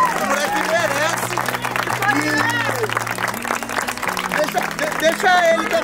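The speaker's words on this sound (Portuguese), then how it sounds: "a salva de palmas pro Léo" A crowd claps and cheers for a prize winner at a street party in a Brazilian city, where a Saveiro Cross pickup is being handed over. The applause is loud and steady throughout, with a voice shouting over it.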